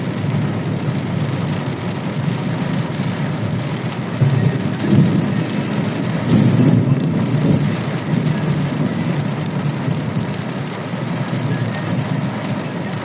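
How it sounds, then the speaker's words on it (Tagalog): Thunder rumbles through heavy rain on a road in Bocaue, a low rolling roar swelling around the middle under steady downpour noise, heard from inside a moving vehicle. "Kumukulog."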